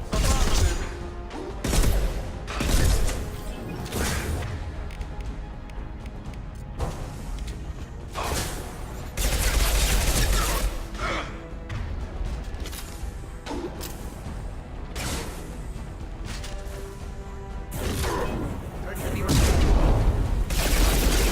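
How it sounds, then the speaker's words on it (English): An impact shot weapon firing in the video game Mass Effect 2, set amid loud, dense combat: repeated booming blasts, whooshes and rapid gunfire over a sustained roar of battle, with voices now and then. "Firing an impact shot!"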